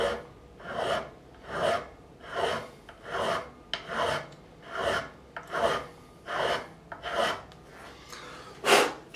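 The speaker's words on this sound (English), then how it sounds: "Just basically guiding the file and being careful when I get to the edge." A number 16 file levels the frets of a Yamaha Pacifica 112V electric guitar in a rhythmic series of about ten close, rasping strokes, evenly spaced, with quiet pauses between them and no voices.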